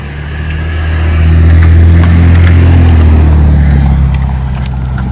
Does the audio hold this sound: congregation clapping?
no